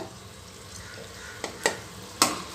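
Country chicken frying in a pan gives a low, steady sizzle, broken by three sharp scraping clinks of a utensil against the pan.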